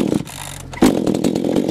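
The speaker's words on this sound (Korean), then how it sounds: "엔진톱은 지금 마루야마 3100S라는 모델을 준비했고요." Maruyama 3100S gasoline chainsaw engine idling low, then revving sharply into a loud, steady high-pitched whine that holds to the end.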